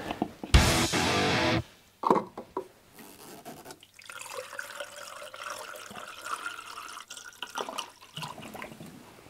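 Coolant poured into the engine of a Renault Twingo; a loud, steady gush of liquid lasts about a second, followed by quieter trickling, drips and sloshing close by.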